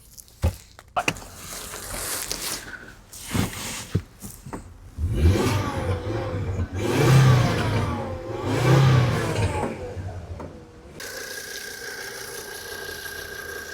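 A 2011 Volvo S60 engine hums and revs in a steady drone while driving, rising and falling twice as if pulling away, then settles into a lighter whir at the end.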